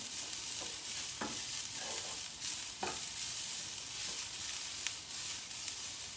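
Ginger, garlic and other aromatics stir-fried in a pan: a steady hiss of sizzling oil broken by several sharp scrapes and clacks of stirring, close and with no talking.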